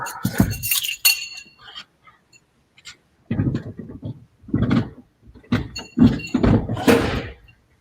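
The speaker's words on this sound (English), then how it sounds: "Cargo door." The plastic cargo door on a Freewing 80mm MiG-29 model jet is handled and opened, giving a string of sharp clicks, snaps and light knocks in uneven bursts, close up and with no talking.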